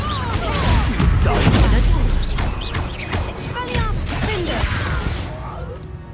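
Confringo fire spell blasts in Hogwarts Legacy, loud crackling bursts and crashing impacts with whooshing swishes mixed into dense combat noise, with voices talking over the action.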